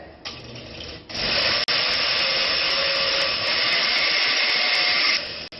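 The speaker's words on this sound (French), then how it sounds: "Après, on va mixer pour 7 minutes." An electric mixer blending ingredients whirs up loudly after a brief start, holding a steady close high-pitched drone for about four seconds with a short catch in the middle before cutting off.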